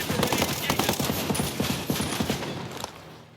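Rapid bursts of AK-74 rifle fire in the shooter game Ghost Recon Breakpoint, loud, close and dense, with sharp repeated cracks across the whole moment.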